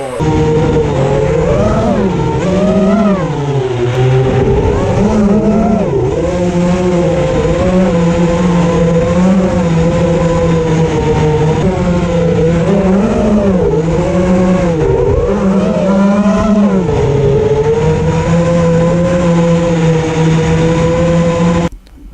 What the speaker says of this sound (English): Now listen to the noise of this board.